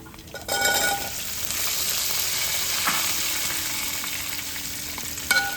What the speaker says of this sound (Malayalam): ഇനി നമുക്ക് കൊടുക്കാം നമ്മുടെ രണ്ട് മൂന്ന് സവാള ഉണ്ടല്ലോ ആ സവാളയും കൂടി ഒന്ന് കൂടെ കിടന്നു നമുക്ക് വെന്തോളും